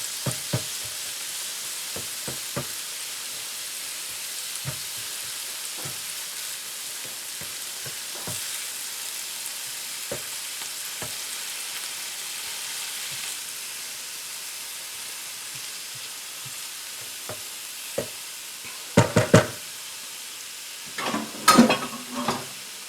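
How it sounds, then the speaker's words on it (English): Eggs fry in a pan for a breakfast omelet sandwich, giving a steady soft sizzle with scattered pops and crackles, then a few louder clattering bursts near the end. "Let these fry up a little bit."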